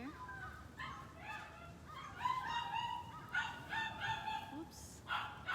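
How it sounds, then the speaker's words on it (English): Puppies barking and yipping loudly indoors, a string of sharp high barks and whimpers in uneven bursts, fairly close. "Loud puppies."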